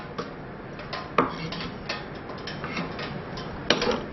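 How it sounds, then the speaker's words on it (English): A knife chopping green chilies on a board, with sparse, irregular sharp taps spread across the clip and a louder pair near the end, each one close and fairly faint over quiet kitchen background. "Just chop up these green chilies quite finely"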